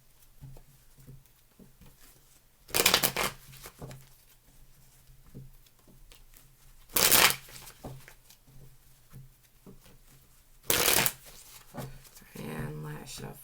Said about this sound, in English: And last shuffle.